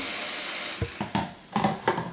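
Tap water runs steadily into a bowl, a loud, close hiss that breaks into splashing and sloshing pulses as the flow shifts.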